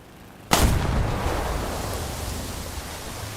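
Bomb detonation in the War Thunder video game: a sudden heavy blast erupts after a brief quiet moment, then rolls into a long, loud, noisy rumble that slowly decays and keeps filling the rest of the stretch.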